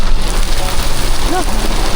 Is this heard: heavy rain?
yes